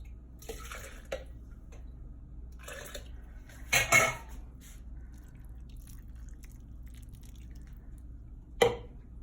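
Chicken broth poured into a pot of pork ribs in green sauce with cactus, heard as short liquid splashes and clinks against the pot in a quiet kitchen, one burst midway and another near the end.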